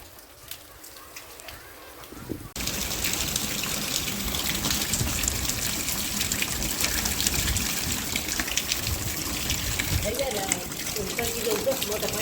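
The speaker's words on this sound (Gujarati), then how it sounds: "કેટલો વરસાદ થોડી વારમાં આવ્યો" Heavy rain starts abruptly and pours down steadily, water gushing and spattering loudly without letup; a voice is briefly heard near the end beneath the downpour.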